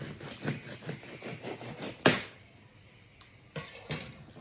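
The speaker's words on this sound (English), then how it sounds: "you can just use your decapping knife and take the top off" A decapping knife scrapes and slices the wax cappings off drone brood comb in a beehive frame, with a rapid series of soft cutting strokes and then a sharper scrape, all close and quiet.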